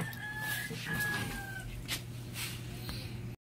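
A chicken clucks and a rooster calls close by at a busy outdoor spot, over a steady low hum and background murmur, with a brief break near the end.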